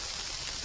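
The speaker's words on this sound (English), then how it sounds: "So far, rain has actually picked up." Steady rain falls on a wet day on a backpacking trail by the Atlantic Ocean in Nova Scotia, a dense, even hiss throughout with a faint patter of drops.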